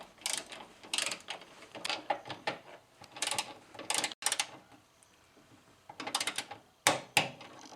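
Bracket screws on a Porsche 924S/944 being tightened with a torque wrench, giving bursts of ratcheting clicks in several separate runs with short pauses between them, close and fairly clear.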